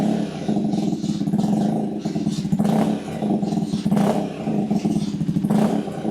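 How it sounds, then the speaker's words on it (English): A stock 2025 KTM 390 Adventure R engine revs loudly and continuously up close, rising and falling in repeated surges over a steady rumbling idle. "That's how the bike goes stock."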